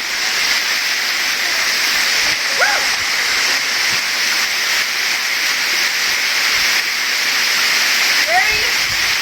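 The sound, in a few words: waterfall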